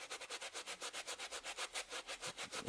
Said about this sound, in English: Let's sand that back.